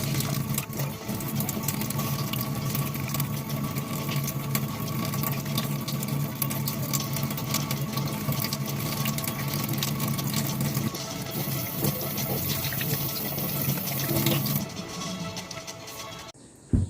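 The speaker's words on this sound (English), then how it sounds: "I'm going to do my hand washing based on WHO 123 protocol." Tap water runs steadily onto hands being washed in a clinical delivery-room setting, a continuous loud rushing stream that cuts off near the end.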